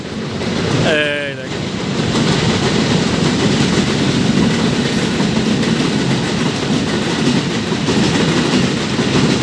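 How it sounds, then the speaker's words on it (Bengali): An oil tanker freight train rolls past close by, a loud continuous rumble with rhythmic clacking of wheels, after a brief horn-like tone near the start. "এই দেখেন কত বড় একটা তেলবাহী গাড়ি চলে আসলো"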